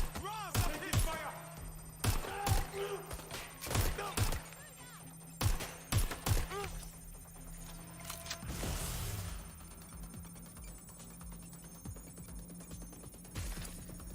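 Gunfire in the video game Watch Dogs Legion, a scattered series of sharp individual shots and short bursts, some loud and close, mixed with game effects and a steady background hum, with a voice calling out between shots.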